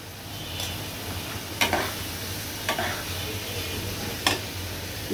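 Onions fry in a generous amount of oil, a steady sizzle broken by several sharp spoon scrapes and taps against the pan as they are stirred.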